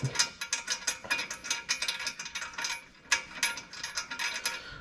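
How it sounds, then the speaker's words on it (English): A hand ratchet tightens running board hardware on a 2021 Nissan Titan Pro4X, with quick repeated clicking strokes in uneven bursts and a short pause midway, close and fairly quiet. "now it's just a matter of going through and tighten up the hardware"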